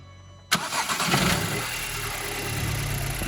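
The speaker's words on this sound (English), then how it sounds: "let's hear the initial startup with it." A 2006 Audi A3 2.0T wagon fitted with a cold air intake cranks and fires up after a brief quiet moment, then settles into a steady, close idle with a faint rev at the catch.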